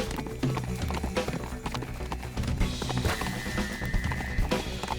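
Rhythmic hoofbeats of a galloping horse in the video game Teardown, over a busy background of music and game sounds, steady and fairly loud throughout.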